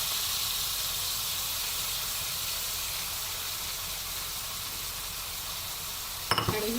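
Prawns sautéing in a pan for an eggplant and potato dish, a steady close sizzle and hiss throughout, ending in a short clatter of stirring.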